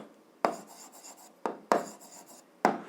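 Chalk or marker strokes on a board in four short bursts, each a brisk scratch that fades, with quiet pauses between and no voices.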